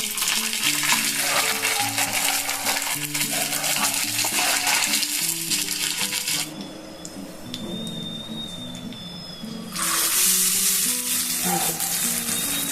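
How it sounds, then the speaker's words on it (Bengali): Mustard seeds, dried chillies and curry leaves sizzle and crackle steadily in hot oil in a home kitchen, loud and close, with a brief quieter lull midway before the frying hiss surges back; bright popping ticks stand out against the steady fizz. "তেল আর সর্ষে শুকনো লঙ্কা এবার দিয়ে দেবো আমি কারিয়া পাতা"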